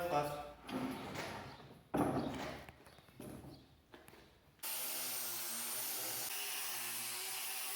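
A power sander works the back of an imbuia wood bench, its steady, even whir coming in close and loud after a stretch of intermittent speech-like sound, then running on unbroken.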